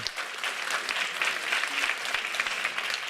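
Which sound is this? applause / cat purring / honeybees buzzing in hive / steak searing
applause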